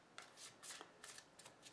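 A deck of tarot cards is shuffled in several quick, papery riffling bursts, close and quiet, with brief pauses between them.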